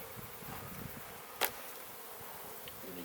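Honey bees buzz in a dense, steady drone from an open beehive, heard close up outdoors, with one sharp click cutting through midway and no voices.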